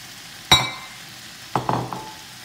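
Paneer being stir-fried with mixed peppers in a pan for diet chilli paneer: two sharp clattering bursts of stirring, with a soft sizzle trailing under each, fairly close and with no talk.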